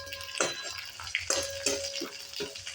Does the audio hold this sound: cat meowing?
no